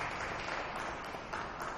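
Arena applause at a UDC women's basketball game as an injured player is helped up from the floor; continuous, diffuse clapping from the stands, moderately faint and blended with crowd noise.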